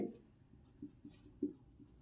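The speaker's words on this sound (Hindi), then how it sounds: "तो हमें यहां पर लिख लेंगे 50 पैसे वाले" Pen or chalk writing out a maths working, soft short scratchy strokes in a quiet room, a few brief taps and scrapes.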